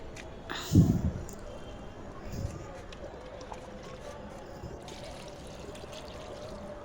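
Water poured at the base of garden plants, a short gush and splash near the start, a smaller splash after it, then a faint low trickle under quiet background noise.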